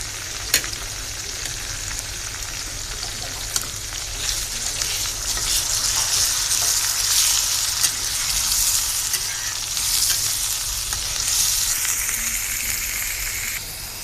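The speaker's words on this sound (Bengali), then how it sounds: "পেঁয়াজটা বাদামি কালার হয়ে গেছে। এখন আমি পেঁয়াজ বাটা দিয়ে দিব।" Onion paste fries in hot oil in a pan with a steady, close, rain-like sizzle that swells in the middle, while a few light clinks of a stirring utensil cut through.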